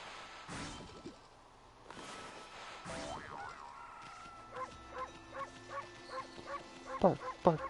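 Dog-like barks from the video game Okami, a quick run of short, evenly spaced yips building in loudness near the end, following a few whooshing game effects, with no talking.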